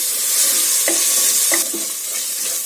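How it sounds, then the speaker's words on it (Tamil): Mint leaves sautéing in an oil-filled pan while vegetable biryani is being made: a steady close sizzle with occasional stirring scrapes and small pops, with no speech. "புதினா சேர்த்து நல்லா வதக்கியாச்சு."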